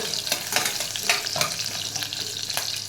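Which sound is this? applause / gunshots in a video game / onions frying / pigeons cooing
onions frying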